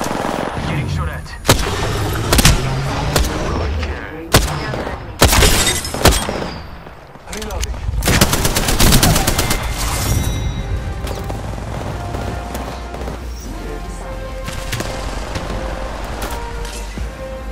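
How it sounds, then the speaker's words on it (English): Gunfire in the battle royale game Apex Legends: a string of loud, sharp shots in the first half, some in quick succession, followed by rumbling combat noise and fainter sounds. "Getting shot at."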